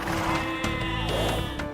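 Sheep in Age of Empires II Definitive Edition give a steady, wavering bleat that sounds loud and close. A couple of sharp clicks punctuate it, and no one speaks.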